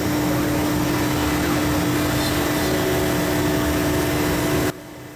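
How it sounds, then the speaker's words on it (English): A high-speed CNC router cuts an acoustic guitar body shape in a Gibson factory with a loud, steady broadband whir and a constant tone. The sound stops abruptly near the end. "The program that's selected will cut the body shape that we require and put the holes in as"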